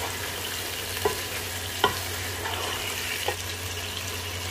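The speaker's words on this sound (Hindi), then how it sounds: "चिकन को भी प्याज के साथ फ्राई करेंगे।" Chicken fries with onions in a pan, making a continuous close sizzle broken by a few stirring scrapes and knocks of a utensil; there is no talk.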